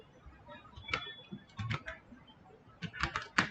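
Keys click on a computer keyboard as a shutdown command is typed on Windows XP, in short clusters of close, crisp keystrokes with pauses between them.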